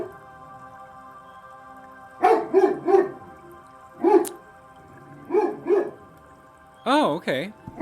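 Dogs barking in bursts, riled up by neighbors teasing them: several clusters of loud, fairly close barks and yips with short gaps between, over a steady background hum.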